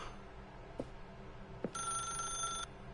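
An old-style telephone bell in a video game rings once in a sustained metallic trill for about a second, following two soft thuds, fairly quiet and without talk.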